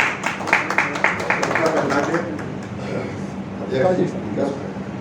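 Applause from an audience honouring Sanjeev Kaushik as state general secretary at a Haryana journalists' association event, a burst of crowd clapping that fades under continuing background murmur and a speaking voice.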